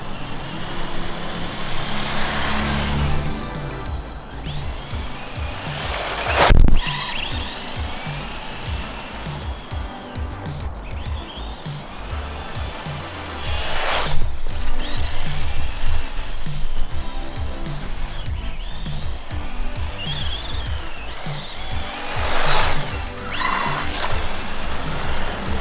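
Team Associated RC10 Gold Pan RC car motor whining steadily outdoors, a continuous buzzing drone with rising and falling pitch sweeps as it speeds up and slows, plus a sharp brief knock partway through.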